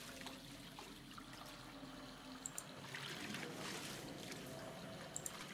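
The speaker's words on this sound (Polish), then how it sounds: "O, ale leci im woda z kranu." Water runs steadily from a tap in the video game Syberia: The World Before. It is a soft, continuous rushing stream, faint and unbroken, and a couple of small clinks sound near the end.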